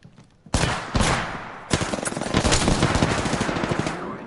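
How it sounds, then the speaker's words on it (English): Sustained automatic gunfire in the battle-royale shooter Apex Legends, starting after a brief quiet moment with loud sharp bursts and rapid rattling volleys that continue close and dense to the end. "Getting shot at."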